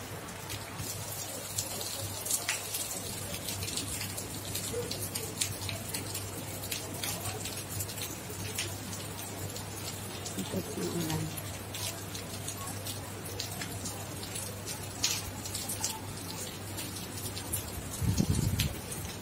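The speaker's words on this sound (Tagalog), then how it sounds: "Lakas ng ulan na." Heavy rain falls during flooding, a steady dense hiss of pouring water heard outdoors, with a constant low hum underneath and people talking over it.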